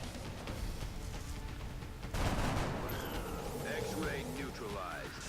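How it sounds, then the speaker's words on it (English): Gunfire from a flanking shot in the strategy game XCOM Long War: a burst of sharp weapon fire breaks out midway, followed by ringing, sweeping effects and crash noises, with a voice talking over the opening. "I'm gonna try to get a flanking shot."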